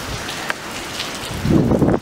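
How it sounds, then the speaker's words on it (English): Gusty wind roars and buffets outdoors during a tornado watch, growing louder and heavier toward the end, with no voices. "It's very windy."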